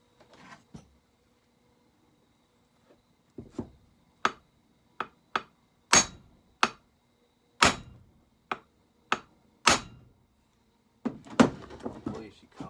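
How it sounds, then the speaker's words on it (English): Sharp hammer blows on a Husqvarna 266se chainsaw during a flywheel-side crank seal repair, about ten separate loud, close strikes spaced irregularly, followed by a burst of rapid tapping and clatter at the end. "Grab my hammer."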